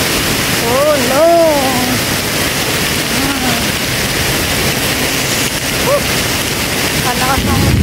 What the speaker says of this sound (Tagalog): Sobrang lakas ng ulan, no?